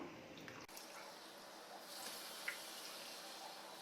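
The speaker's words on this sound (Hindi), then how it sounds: "अब इसमें हम पानी ऐड करेंगे, जो हमने बॉईल करके जो बाकी बचा था पानी वही डालेंगे इसमें।" Boiled water is poured into a pan of black chickpeas in a home kitchen, making a faint, steady splashing hiss that runs for several seconds with a small drip-like plink partway through.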